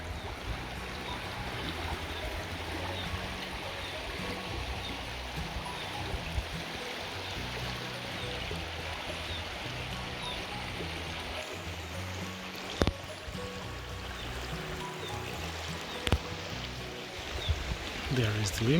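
A river runs along the boundary of a rural farm with a ruined building to rebuild, its steady, continuous flowing and trickling water filling the scene at moderate level, with a few brief knocks near the end.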